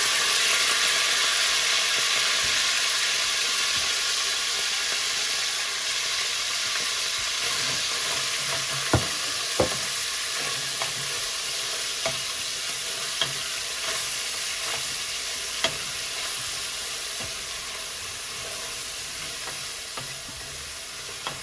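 Saltfish sautés in a hot pan, giving a steady broadband sizzle with a few sharp pops and stirring clicks scattered through the long stretch, with no talking.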